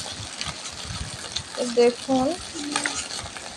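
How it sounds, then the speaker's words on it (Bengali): Fish roe frying in hot oil in a home kitchen, a soft continuous sizzle and crackle with light stirring, under a woman's brief speech. "এনে দেখুন তেলটা আমার গরম হয়ে গেছে। মাছের ডিমটা দিয়ে দিচ্ছি।"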